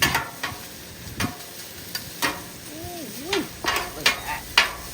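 Chicken and cheese are stirred in a sizzling pan for a chipotle chicken Philly, a steady fry hiss under repeated sharp scrapes and taps of a utensil against the pan, with a brief squeak midway.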